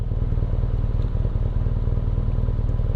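A BMW R nineT Pure motorcycle's boxer engine idling or running steadily, a close, low, even throbbing pulse with mechanical clatter on top, no voices.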